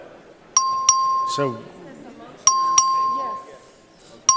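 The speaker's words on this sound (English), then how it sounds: "The clerk will ring the bell." Voting bell in a state House chamber, rung by the clerk for a record vote: two bright, sustained ringing tones with sharp onsets, separated by about two seconds, with a third starting at the end, and a short spoken word between them.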